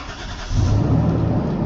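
A Toyota SR5 with gauges rather than warning lights is started. A short crank gives way to a loud, steady idle that carries on to the end, close up, with no talk.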